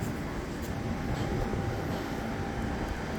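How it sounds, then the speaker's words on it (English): A New York City subway W train arrives, a continuous rumbling roar of wheels and cars filling the platform at steady, fairly loud level, with no talk. "And here comes the W train."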